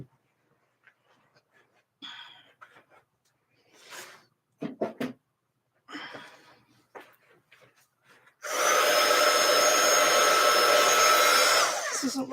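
A handheld heat or drying tool blows steadily and loudly over mixed media artwork for about four seconds, following scattered handling clatter and brief rustling.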